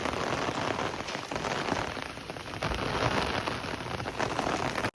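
Heavy downpour pours steadily onto street and surfaces during severe village flooding in Lushala, a dense, loud, continuous hiss of rain with no voices.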